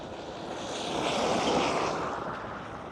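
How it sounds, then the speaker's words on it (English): A Delta Airlines Airbus A330 jet lining up for departure at Schiphol airport, a broad roaring engine rumble that swells to a peak midway and eases off, heard at a distance with no voices. "A330 lining up right now. Delta Airlines A330 joining in the picture as well."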